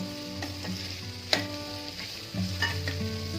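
Beetroot sautés in a pan with a steady sizzle, punctuated by several sharp scrapes and taps of a spoon stirring nearby, with no talking.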